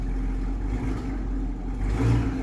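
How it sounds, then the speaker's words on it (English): A heavily modified Chevrolet Camaro ZL1 with a loud aftermarket exhaust idles with a deep, steady rumble, swelling briefly near the end as if lightly revved, close and alone with no talk. "outside of the car, this exhaust is pretty loud"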